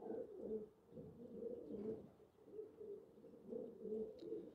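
Pigeons cooing in a loft, several soft, low, repeating coos rolling in overlapping phrases, fairly close with a quiet background.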